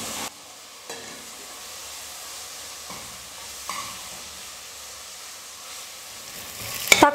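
Chopped tomatoes sauté with ginger garlic paste in a pan, giving a steady close sizzle broken by several scraping stirs of a spoon, ending with a louder clatter.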